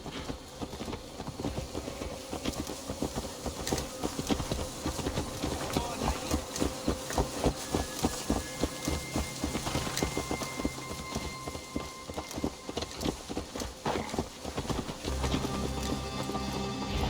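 Steady clip-clop of horse hooves trotting along in Assassin's Creed Valhalla, with a rain-like patter and game ambience in the background; no talking.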